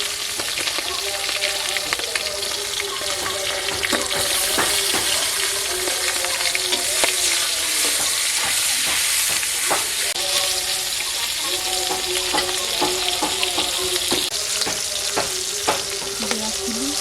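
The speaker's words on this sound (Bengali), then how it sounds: "এবার মাছগুলো ভেজে নেব।" Tangra fish fry in hot oil in a pan, a loud continuous sizzle and crackle with frequent sharp pops and occasional scraping of the spatula, heard alone without talk.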